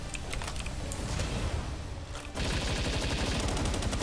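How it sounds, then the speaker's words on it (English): Rapid, steady bursts of assault rifle fire in the video game Palworld, loud and close, with a short pause near the middle before the sustained automatic fire picks up again. "This assault rifle's so good."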